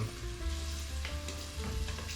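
Fish sizzles and crackles as it fries in oil in a deep pot for a Dahomey fish stew from Benin. The frying is steady and close, with a few sharper pops and stirring sounds over the top and no voices.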